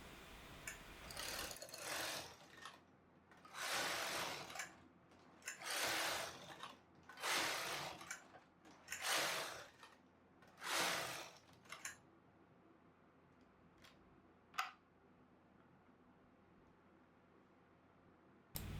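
Knitting machine working 1x1 ribbing on a dog sweater, the carriage swept back and forth in about six loud rasping passes, then quieter with a few isolated clicks.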